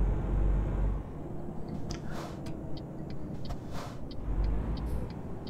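Simulated European truck driving in Euro Truck Simulator 2, a steady low engine drone and road rumble throughout with faint periodic ticking, like an indicator, on top.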